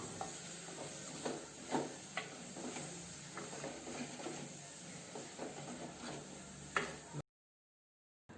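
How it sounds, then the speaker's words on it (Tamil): Tomatoes are stirred into a masala in a pan for potato kurma, giving a faint, soft sizzle broken by irregular light scrapes and taps of a spoon. The sound cuts out near the end, and no one speaks. "இப்போ தக்காளி சேர்த்து கிளறி விட்டுறலாம்."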